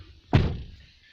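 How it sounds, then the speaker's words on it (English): A single Lexus car door shuts with a solid thunk close by, a short heavy impact that fades quickly into quiet cabin ambience. "Close the door."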